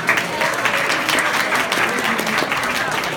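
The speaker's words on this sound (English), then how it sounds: "So please give them a big round of applause," Audience applause at a community event, steady broadband clapping from many hands sustained throughout with no pauses, fairly loud and continuous.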